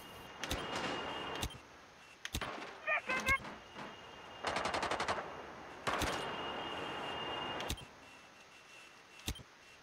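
Gunfire in the Rainbow Six Siege video game as the operator Buck shoots from below in a Skyscraper bomb match, with sharp single shots and rapid bursts, some loud and some muffled, set among game effects.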